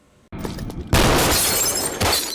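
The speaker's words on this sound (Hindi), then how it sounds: "कांच टूटने की" A glass breaking sound effect from the film Sholay: a sudden loud shatter bursting out after brief lead-in noises, then a sustained crashing spray of fragments with a second hit near the end.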